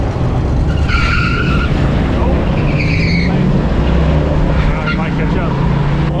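A Ford Mustang racing on a hot day, its engine roaring steadily with two sharp bursts of tire squeal early on and further skids later, all loud and close.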